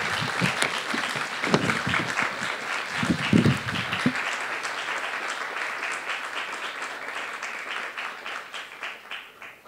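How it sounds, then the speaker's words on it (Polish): Audience applause at an academic symposium award presentation, a dense wash of clapping from a seated crowd, sustained for several seconds with a few louder bursts early on, then gradually fading. "Wielkie brawa."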